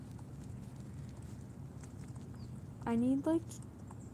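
Horse hooves clip-clop steadily through an online horse-riding game featuring Arabian, Marwari and Percheron breeds, a soft continuous patter under background noise, briefly interrupted by a short spoken phrase near the end.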